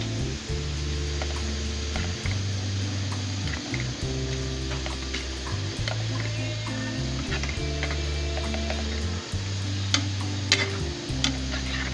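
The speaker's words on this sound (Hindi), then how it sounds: "कलेजी फ्राई हो रही है।" Beef liver (kaleji) fries on a hot tawa with a loud, continuous close sizzle, joined by occasional light ticks and scrapes of stirring and a steady low hum underneath.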